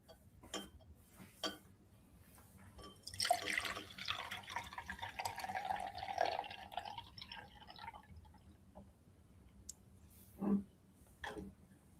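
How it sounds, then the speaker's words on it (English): Water overflowing from a beaker into a smaller beaker after a ball is lowered in, a soft trickling pour of several seconds followed by a few scattered drips, faint and close in a quiet room. "So as you can see, this ball has displaced water into the smaller beaker."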